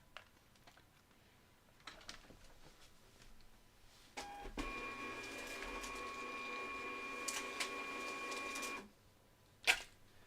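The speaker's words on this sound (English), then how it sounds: "So I hit the print button. Make sure my thermal printer is plugged in." A thermal printer printing a shipping label: a few soft clicks, then a steady whirring feed lasting about four seconds, followed by a sharp tear or click at the end, fairly quiet overall.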